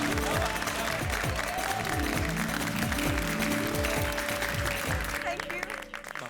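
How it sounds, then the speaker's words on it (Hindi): Studio audience applause for a sitcom moment, a steady dense wash of clapping running continuously under bright music and tinkling effects before trailing off near the end. "सबको प्रेरणा देने वाली आपकी सोच के लिए तालियां तो बनती है।"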